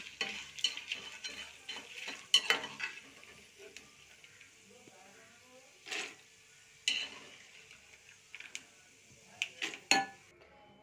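Tempering of cumin, urad dal, chana dal, mustard seeds and curry leaves frying in oil in a pan for Mysore bajji, with soft sizzling and intermittent scraping and clinking of a spoon stirring, close and moderately quiet.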